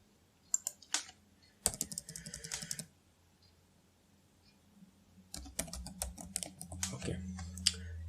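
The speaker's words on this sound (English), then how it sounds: "So the same thing I'm typing here." Typing on a computer keyboard in two bursts of quick, close clicks separated by a quiet pause, with the later stretch busier and underscored by low background noise.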